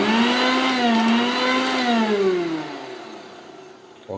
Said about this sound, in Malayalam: തേങ്ങ മിക്സിയിലിട്ട് നമ്മൾ നന്നായിട്ട് അടിക്കാൻ പോകും